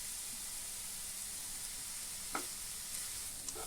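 Chopped onions and finely cut carrot fry in oil in a pan with a faint, steady hiss, broken by two brief soft stirring scrapes near the end.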